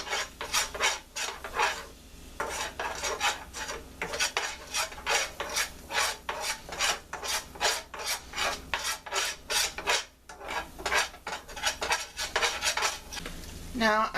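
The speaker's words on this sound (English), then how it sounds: "add 1/3 cup of flour. And mix that up to create a roux" Flour being mixed into a roux in a pan for scalloped potato casserole, a steady rhythmic scraping of a utensil against the pan bottom that repeats for many seconds, close and unaccompanied by talk.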